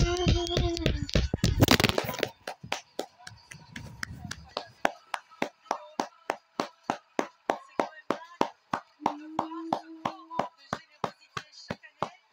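Sharp, evenly spaced claps from a live audience at a televised fundraising event, starting dense and loud, then thinning into a steady rhythmic clapping that continues for several seconds.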